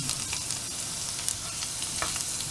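Vegetables frying in garlic-flavored oil for a vegetable masala, a continuous close sizzle with small crackling pops and no talking.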